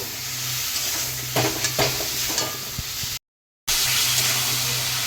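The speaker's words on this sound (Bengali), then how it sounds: "জিরে লঙ্কা বাটা দিয়ে দেবো এক চামচ দিয়ে আরও একটু কষিয়ে নেবো" Cumin and chili paste sauté in a pan with a moderate, even sizzle and a few sharp stirring scrapes, broken by a brief moment of complete silence before the frying sound resumes.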